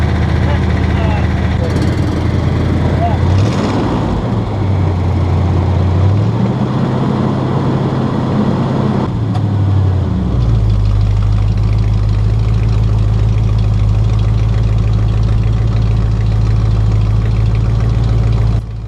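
An old stock truck engine idles loud and close with a deep, steady low rumble. The revs rise and fall briefly before settling into an even idle.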